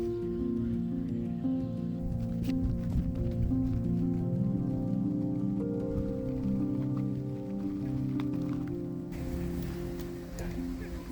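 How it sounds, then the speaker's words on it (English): Rain falling outdoors at a campsite where a tent is being pitched: a steady patter runs throughout, mixed with low rumbling background noise and occasional clicks. "It started to rain."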